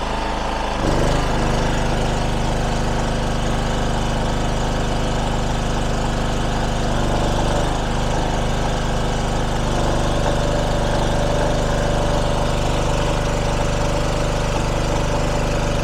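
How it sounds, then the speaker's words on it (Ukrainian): Forte FG3500 dual-fuel gas-petrol generator running on natural gas, a loud steady engine drone with constant hum close by, shifting slightly in tone as load changes, no speech. "Зараз генератор працює на природному газі."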